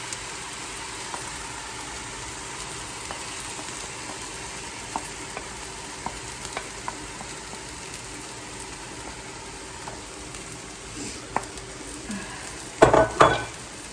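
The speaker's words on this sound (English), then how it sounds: "Now we're going to build it up. We're going to add our onions." Onions go into a bubbling vegan omelette mixture in a pan, with a low steady sizzle, faint scattered taps and a louder clatter of activity near the end.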